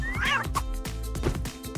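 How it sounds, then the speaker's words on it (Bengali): A cat meows loudly and insistently, a few drawn-out, whiny cries in quick succession, close by. "আরে আস্তে টাইগার বাজে বিড়াল"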